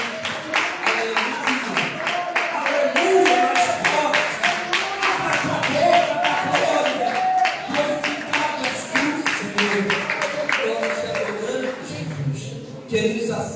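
A congregation claps in a steady, fast rhythm during a Portuguese-language communion church service, the clapping running throughout beneath prominent voices.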